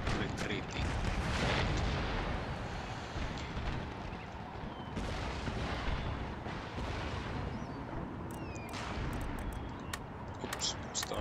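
Cannon and artillery fire in the video game Empire: Total War, dense rumbling booms and crackling volleys overlapping in a loud, continuous battle roar, with a few sharper reports near the end.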